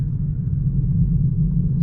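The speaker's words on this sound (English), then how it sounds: "there are heaps of cars coming. Heaps of cars" Cars pass on the road around a Tesla Model 3 as a steady low rumble of traffic and road noise, heard from inside the moving car with no break.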